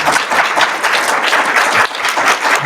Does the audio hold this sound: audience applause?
yes